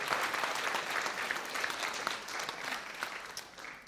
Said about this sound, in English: please give a round of applause to Mr. Brian Gerrish.